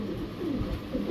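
Low, throaty cooing comes from Netherlands-imported Stellar-line pigeons, a soft, continuous burbling heard close up and alone.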